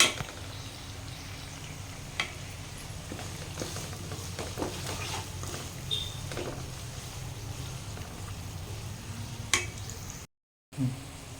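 Onions frying in oil in a pan for a Telugu fish curry, a steady soft sizzle with occasional light clicks and scrapes of stirring, brief silence near the end.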